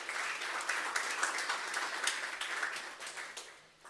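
Church congregation clapping together in steady applause, moderately loud with a slightly roomy sound, fading toward the end.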